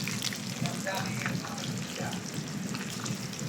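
Whole fish frying in a home kitchen pan until crisp: a continuous, fairly loud oil crackle and sizzle throughout, close and steady, with faint voices in the background.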